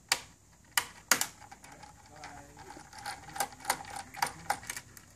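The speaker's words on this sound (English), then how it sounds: "So I'm going to open the printhead by unscrewing these three screws." A screwdriver removes the three screws holding an inkjet printer's printhead, giving close, sharp clicks and small scraping taps at irregular intervals with quiet gaps between them.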